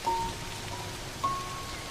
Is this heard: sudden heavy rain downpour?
yes